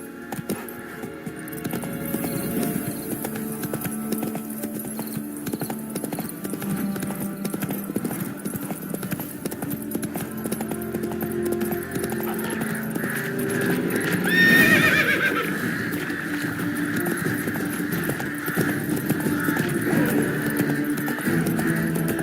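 Roach, a horse in The Witcher 3, clip-clops steadily at a gallop with a continuous rhythmic hoof beat, and a single loud neigh rises about two-thirds of the way through over a low background hum.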